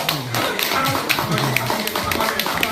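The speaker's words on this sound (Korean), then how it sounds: "힘있게 박수하라고" A church congregation claps firmly at an anniversary revival service, the rapid steady claps running through the whole stretch with a voice speaking over them.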